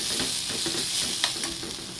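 Onions sauté in a pan for tuna masala with a steady, dense sizzle, and a spoon stirs them now and then with faint scraping. The sound is close, even and free of speech.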